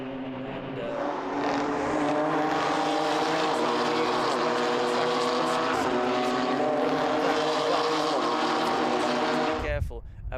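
Several BMW M2 race cars corner flat out through right-hand bends at the Red Bull Ring, their engines a dense, loud, continuous roar. Layered harmonic tones rise and fall across the clip before cutting off abruptly near the end.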